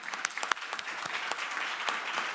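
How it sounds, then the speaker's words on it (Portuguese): Applause from a room of journalists at a coffee gathering in the Planalto palace, marking President Lula's birthday. It sounds as a steady, fairly faint patter of many hands with a few sharper claps standing out. "salva de palmas."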